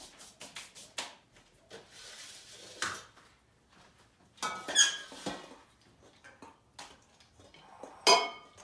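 Flour and breadcrumbs are mixed in a dish for veal scallopini. Quiet, scattered scrapes, squeaks and light clinks come in uneven bursts with short pauses between them, and no one speaks.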